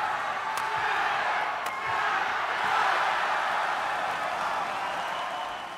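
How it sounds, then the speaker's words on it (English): A large arena crowd roaring and cheering at an Olympic badminton mixed doubles final, a dense, sustained wash of noise with a few sharp claps or thuds on top. "Chan and Go also enjoyed loud and exuberant support and did their best to give them something to"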